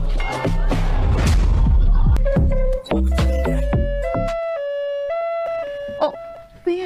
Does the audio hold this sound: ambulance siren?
yes